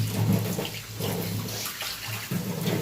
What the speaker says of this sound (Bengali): কলের আওয়াজ, জলের